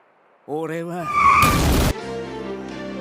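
An anime truck, Truck-kun from Tokyo Revengers, skids and slams into Kisaki: a rising engine or horn tone gives way to a loud, harsh screech and impact burst about a second long, then a lingering tonal hum.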